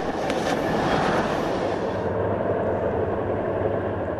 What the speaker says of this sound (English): the Armour yellow Union Pacific E9s leading a train of matched UP passenger cars